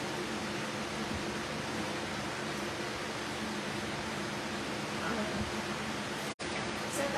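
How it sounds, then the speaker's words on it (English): Steady, loud whoosh of a blow dryer drying wood stain on a DIY farmhouse pumpkin, a continuous airy roar that runs nearly unbroken with a brief cutoff near the end. "I'm just going to touch it with the blow dryer to dry it"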